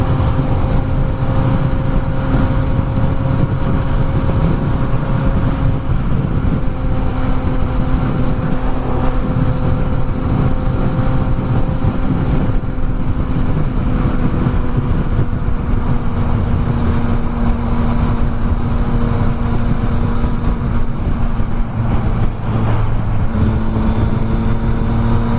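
A Yamaha XSR900 motorcycle being ridden, its engine droning steadily and loudly throughout with mild shifts in pitch and heavy wind rumble, no voices.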